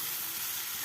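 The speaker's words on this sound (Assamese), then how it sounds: "ভাতখিনিও দি দিছোঁ মই একেলগে। 10 মিনিটমান ফ্ৰাই কৰিব লাগিব।" Rice frying in a pan for street-style fried rice, a steady broadband sizzle filling the brief moment, loud and close with no voices.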